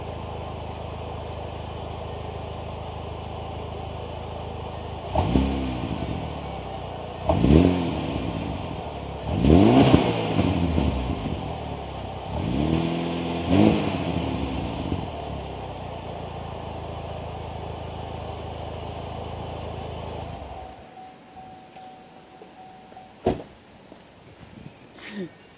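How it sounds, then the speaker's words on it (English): Chevy HHR SS engine on its stock exhaust idling, then blipped in four or five sharp revs that rise and fall back to idle, close and loud, before the engine shuts off and the sound drops away. "you want to hear how she sounds revving up with the stock exhaust?"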